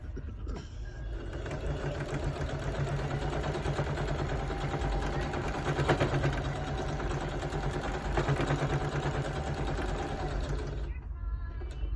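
A sewing machine stitches a quilt square onto a shirt, its needle kept down for turns. It runs as one continuous close whirring drone for about ten seconds, then stops.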